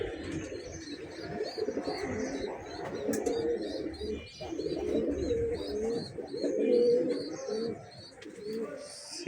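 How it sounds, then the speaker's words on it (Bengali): Large pigeons, Giribaz-type birds offered for sale, cooing repeatedly in a low, throaty rolling rhythm, fairly close and steady, with no talk over it. "সিরিয়াল নাম্বার 10-এ এক পেয়ার বইল পাখি কবুতর"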